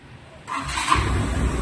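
An Explorer 400cc 4x4 ATV engine cranks and catches at about half a second, then settles into a steady, close, rumbling idle.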